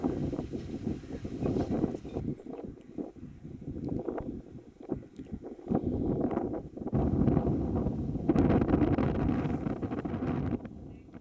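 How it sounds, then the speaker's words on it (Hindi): Strong gusts of wind at 40 to 50 km/h during a thunderstorm in Rajasthan roar and buffet against the microphone in rough, uneven surges that keep up throughout. "साथ ही तेज हवाएं 40 से 50 किलोमीटर प्रति घंटे की रफ्तार से चल रही हैं।"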